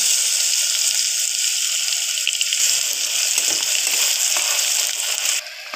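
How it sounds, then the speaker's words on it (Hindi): Chopped onions sizzle in hot oil with cumin seeds and a piece of cinnamon, a loud, steady close-up hiss with small crackles throughout. "प्याज को हल हल गोल्डन होने तक फ्राई करेंगे"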